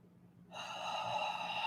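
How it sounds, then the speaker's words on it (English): A slow inhale through the nose during a guided full moon healing meditation, rising from near silence into a steady breathy hiss that grows louder over about a second, close and alone. "breathing in through the nose and out through the mouth"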